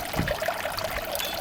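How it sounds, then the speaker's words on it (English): Water pours steadily out of a goldfish tank into a chamber below, a continuous close trickling stream with light bubbling. "the water's discharging from the fish tank through here"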